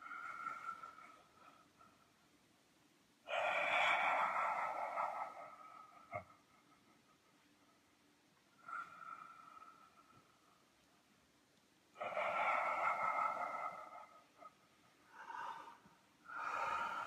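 Deep breathing during a biodynamic breathwork session: loud, rough inhale-exhale bursts of several seconds each recur in slow cycles, close to the microphone, with quiet stretches between.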